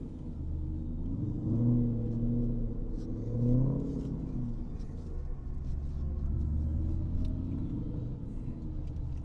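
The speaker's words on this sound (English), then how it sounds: "test out this Whipple Supercharged 5-liter" Supercharged 5-liter V8 of a 2011 Mustang GT with a Whipple supercharger rumbles deep and steady, swelling in a couple of revving surges before settling back to a loud, continuous idle.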